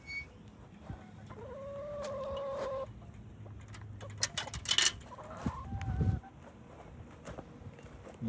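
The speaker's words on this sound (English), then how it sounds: "This is our chicken coop." Chickens cluck inside a backyard coop converted from a shed, giving a short run of drawn-out calls followed by scattered clucks and scuffling, close by and moderately loud.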